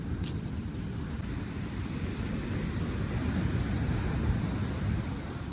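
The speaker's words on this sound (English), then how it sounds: "So hopefully this wind might have improved things." Wind blowing across Chesil beach by the sea, a steady dense low roar with rumbling gusts and a faint surf wash underneath, continuous and fairly loud throughout.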